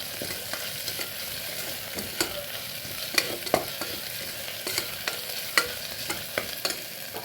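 Onions, ginger-garlic paste and green chillies sauté in a pan with a constant sizzle. A spatula scrapes and taps at an uneven pace throughout. Nobody talks.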